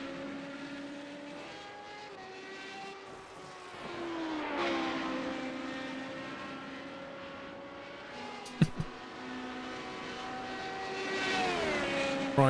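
Radical race car engine in the iRacing sim, a steady high-revving whine with rising and falling pitch through gear changes, fairly loud throughout, with a brief sharp knock near the end.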